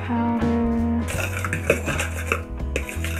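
A spoon stirs Soylent Green powder with garlic powder in a bowl, a few quick clinks and scrapes against the bowl over a sustained background tone, close and moderately loud.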